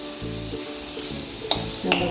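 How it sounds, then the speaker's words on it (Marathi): Eight to ten garlic cloves sauté in a pan over a low flame with a soft, steady sizzle, broken by a few short stirring scrapes and small clinks of the spoon against the pan. "आठ दहा लसणीच्या पाकळ्या टाकल्या आहेत ते चांगल्या परतवायच्या फक्त त्या मंद गॅसवरच परतवायच्या"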